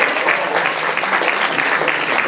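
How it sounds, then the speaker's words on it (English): Enthusiastic applause for a councilman from a crowd, dense and steady clapping filling the room at close range for a couple of seconds. "Big round of applause for him."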